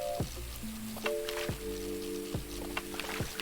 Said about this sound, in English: You hear the rain, you can hear the lightning.